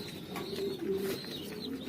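A meat pigeon coos steadily at close range, a low rolling call that swells and holds for a couple of seconds, with no talking over it.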